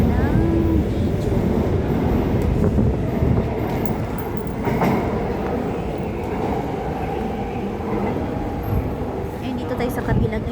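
An MRT metro train pulls out from the opposite platform, a loud rumbling clatter of wheels and cars that slowly fades, with someone talking over it.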